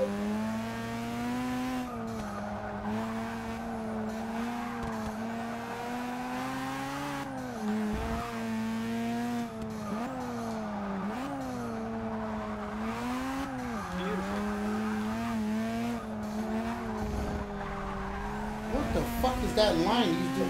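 Race car engines drone steadily through a Forza Motorsport 6 drag race, sustained high revving tones that rise and dip with gear changes, while someone talks over them; a burst of tire noise near the end.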